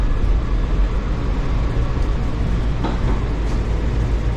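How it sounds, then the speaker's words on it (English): A steady low rumble of a Washington Metrorail Yellow Line train rolling into Eisenhower Avenue station, with a faint brief squeal near the middle and no voices. "Crossing the Capitol Beltway right now and coming in to station number 2"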